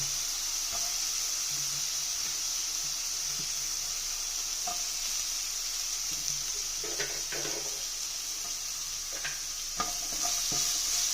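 Chopped onion sautés in a pan for beetroot thoran: a constant hissing sizzle with scattered soft clicks and scrapes from a stirring spoon, close and fairly loud.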